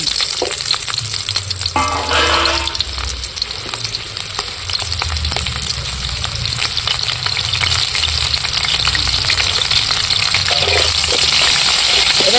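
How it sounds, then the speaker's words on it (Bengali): Onions fry steadily in hot oil in a wok for a soybean and egg dish, giving a loud, continuous sizzle with occasional stirring scrapes throughout and no talking. "তেল গরম হয়ে গেছে পেঁয়াজগুলো আমি তুলে দিচ্ছি"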